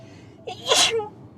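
A single sharp sneeze bursts out close by, a quick inhale followed by a loud, breathy explosive release, then quiet.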